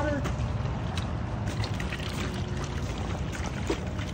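Ice water pours steadily into a container used to cool a freshly harvested chicken, a continuous close splashing and trickling throughout.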